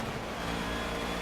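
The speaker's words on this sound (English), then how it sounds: "Great sounding engine." A Mercedes 190E engine in a racing video game revs steadily at a loud, sustained pitch, with a smooth continuous drone and no speech.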